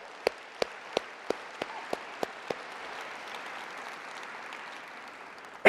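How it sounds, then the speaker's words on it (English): An audience applauds award winners at a science society's presidential address, a crowd clapping that rises and holds at moderate distance, with a few sharper separate claps standing out at the start. "can I get another round of applause for all of our winners?"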